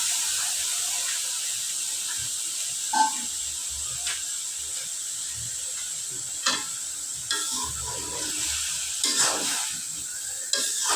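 Cauliflower and eggplant are dropped into hot oil in a frying pan for a Bengali bata fish curry, giving a soft continuous sizzle and hiss with occasional stirring clatters.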